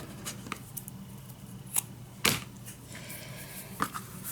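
Scissors snipping through fabric during sewing prep, a few sharp, quiet cuts spaced irregularly over a soft background hiss, with no talk.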